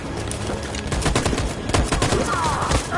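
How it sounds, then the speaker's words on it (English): Sustained machine gun fire in a war video game, dense rapid bursts of shots rattling loudly and continuously throughout with battle noise around them. "That machine gun is taking down everything that moves!"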